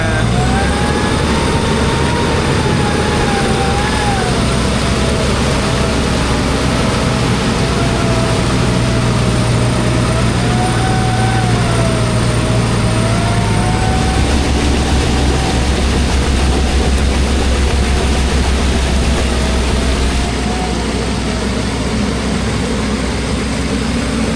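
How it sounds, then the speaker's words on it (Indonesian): An off-road car crosses a flood with its engine held at constant low RPM, a loud continuous drone with a wavering whine and heavy low rumble throughout, near and steady, with water and wind noise mixed in. "Gasnya konstan, nggak terlalu tinggi RPM-nya."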